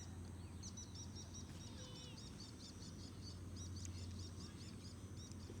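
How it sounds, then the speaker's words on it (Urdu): Small birds chirp and trill outdoors in repeated quick bursts, fairly faint against a steady low hum and background noise, with no one talking. "مجھے بھی نا پرندوں کی آواز آئی ہے"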